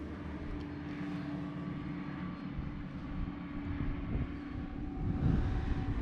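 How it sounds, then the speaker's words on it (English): A tractor drives flat out on the steep hill road at the Devil's Elbow in Glenshee, Scotland, its engine a steady low rumble at a moderate distance, swelling louder toward the end, with wind on the microphone and no talk. "He's flat out there, folks, in that tractor."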